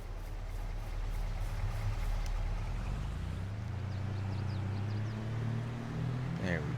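A truck in Farming Simulator 22 drives along steadily, its engine humming in a constant low drone that shifts pitch partway through, with faint clicks and a brief sharp sound near the end.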